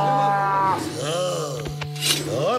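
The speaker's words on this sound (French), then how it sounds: "On a juste encerclé un troupeau de vaches" A herd of cartoon cows lets out long, loud, overlapping moos, the lowing voices rising and falling close by in a continuous chorus.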